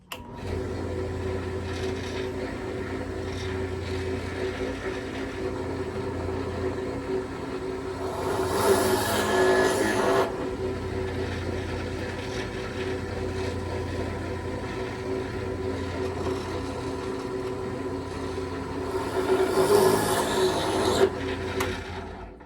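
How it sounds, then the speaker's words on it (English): A drill boring quarter-inch sound holes through a wooden songbird whistle, a steady rasping whir with two louder grinding bursts as the bit cuts into the wood. "let's go ahead and drill this out"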